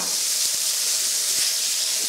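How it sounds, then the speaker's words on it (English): Thai curry paste fries in peanut oil, a close, steady hiss and sizzle with a couple of faint soft knocks underneath. "I'm just going to add the curry paste and fry that around for a few seconds"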